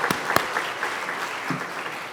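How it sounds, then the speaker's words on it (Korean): A church congregation at a Korean Sunday service claps together in a brief, steady burst of applause that fills the hall. "여기까지 인도하신 우리 하나님 앞에 감사와 영광의 박수 돌려드리겠습니다."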